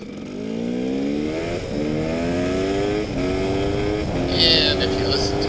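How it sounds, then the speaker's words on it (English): KTM 250 dirt bike ridden off-road in the rain, its engine climbing in pitch through each gear with brief dips at the shifts, loud and close throughout. "if you listen to the bike as I go through the gears here"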